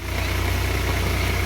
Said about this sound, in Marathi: फायनली ट्रॅक्टर आला आता.